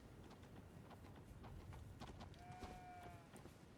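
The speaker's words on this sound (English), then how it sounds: "that's the sound of a goat, not a knight on a horse" Faint clip-clopping of goat hooves in the Elden Ring: Shadow of the Erdtree game, a light, regular trotting pattern against soft ambient game sound, with a brief tonal chime partway through.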